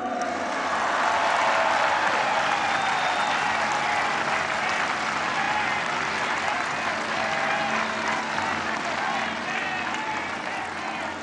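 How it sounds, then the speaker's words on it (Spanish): Dense, sustained applause from a large crowd at a Mexican presidential rally celebrating four years of government, loud and steady from start to finish, with no break. "Otro aplauso."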